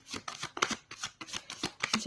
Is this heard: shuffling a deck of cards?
yes